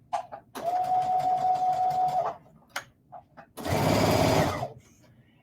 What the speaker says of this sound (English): And then I just keep sewing them down.